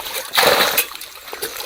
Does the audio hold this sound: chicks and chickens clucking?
no